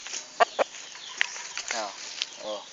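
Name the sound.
gamefowl rooster clucking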